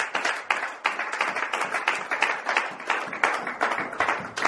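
Church congregation at a worship service clapping together, a dense rapid patter of many hands, moderately loud and steady, with faint voices mixed underneath.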